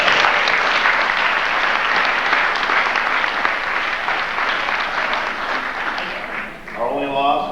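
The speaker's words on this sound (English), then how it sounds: "They deserve a round of applause for that." A crowd at a high school spring sports awards ceremony applauds loudly and steadily for several seconds, fading slightly before a voice starts speaking near the end.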